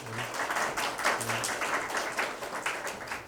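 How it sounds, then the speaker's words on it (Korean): Students in a university lecture hall applaud newly introduced teaching assistants, a dense, steady patter of many hands clapping at once that fills the room for the whole stretch. "같이 수고할 조교니까 박수 한번 쳐줄까요"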